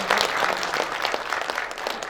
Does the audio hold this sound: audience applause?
yes